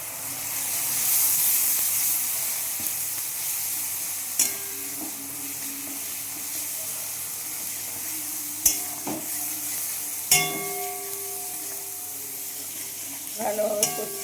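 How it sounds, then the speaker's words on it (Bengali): Potatoes and spices with turmeric, chili powder and sugar are sautéed and stirred in a pan for potato and green pea aloo dum, giving a soft continuous sizzle broken by occasional sharp scrapes and clinks of a spoon against the pan. "ভালোভাবে কষিয়ে নেব বন্ধুরা। আলুগুলোকে এর সঙ্গে কষিয়ে দেবো।"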